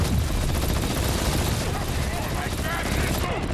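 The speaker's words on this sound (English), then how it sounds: "Why is he shooting his own?" Enemy gunfire in the Marvel's Spider-Man video game crackles as dense, rapid bursts of shots with rumbling booms, continuous and loud under a mixed game soundscape.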